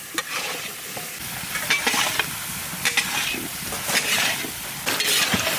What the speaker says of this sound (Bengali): আলু দিয়ে সুন্দর করে কষিয়ে নেব।